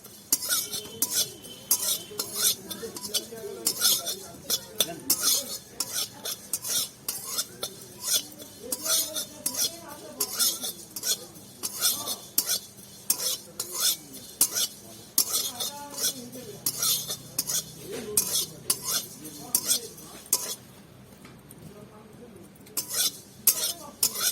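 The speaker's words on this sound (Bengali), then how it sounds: "তিলটাকে আগে শুকনো কড়াইতে ভেজে নিচ্ছি।" White sesame seeds dry-roasting in a dry wok for puli pitha filling, stirred steadily with a metal spatula that scrapes and clinks against the pan in a quick, repeated rhythm, close and fairly loud, with a brief pause near the end.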